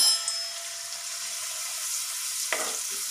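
Onion frying with turmeric in a pan for Punjabi chole, a steady close sizzle with a short stirring scrape partway through.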